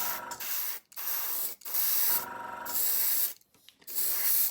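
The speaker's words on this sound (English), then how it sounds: "just check the spray pattern" Bursts of hissing paint spray from a spray-pattern test before weathering an N gauge model train, four or five in a row, each lasting around a second with short silent gaps between.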